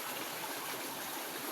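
Steady broadband rush of the Laya River flowing in Candulawan, Talisay City, Cebu, continuous and fairly close, with no voices over it.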